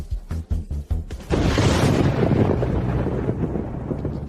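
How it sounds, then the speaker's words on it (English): Thunder from a lightning strike in a drama, a deep rumbling roar breaking in after a few brief thumps and rolling on loud and sustained. "That's Tribulation Lightning"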